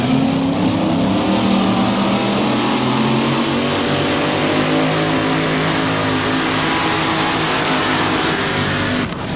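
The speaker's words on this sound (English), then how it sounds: "On the line with none other than Larry Kester and the Footloose tractor now." A mini rod pulling tractor revs hard and steadily throughout a 1994 mini rod tractor pull at Bowling Green, Ohio, its loud, sustained engine roar holding close before cutting off abruptly at the end.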